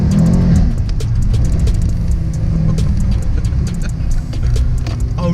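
A Mercedes-AMG E63 S engine roars loud and close, a continuous deep rumble with rising revs and crackling pops from gear down-changes, heard with no voices.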